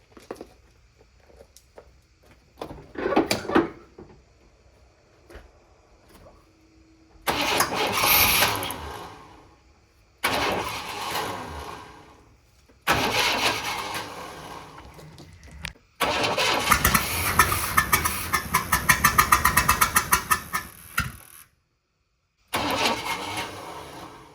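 An old GMC truck with throttle body injection trouble and a weak starter cranks again and again in long churning bursts separated by pauses, the engine straining and sputtering as it tries to catch.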